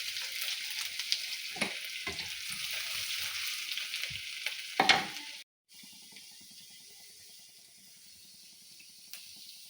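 Mustard seeds, chopped ginger and chili fry in hot oil with a bright hiss and a few scraping stirs. Midway the sizzle drops sharply, then continues as a quieter, steady sputter.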